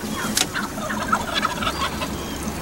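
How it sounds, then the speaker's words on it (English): Wild turkeys gobbling nearby outdoors, several rattling gobbles and clucks overlapping in quick bursts across a continuous flock chatter, loud and close with no talking. "Get about as close as you can get to turkeys here without spooking them."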